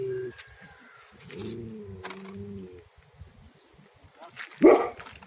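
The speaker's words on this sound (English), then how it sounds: "That's why he's barking." A dog barks outdoors, with a few low barks and a growly vocal sound followed by one sharp, louder bark near the end, among quiet background noise.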